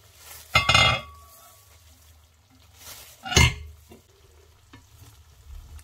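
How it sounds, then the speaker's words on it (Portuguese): Rice being stirred in a cooking pot: two short bursts of scraping and clattering, separated by a quiet stretch of low background hum. "Agora vamos mexer o arroz para ver se está cozido."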